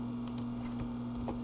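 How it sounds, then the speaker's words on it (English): Computer keyboard typing during a Visual Basic game programming session, a steady run of soft, close key clicks over a constant electrical hum. "So I don't have to keep typing these."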